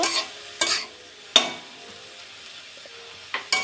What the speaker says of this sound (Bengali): ভালো করে নেড়ে চেড়ে মিক্স করে নেব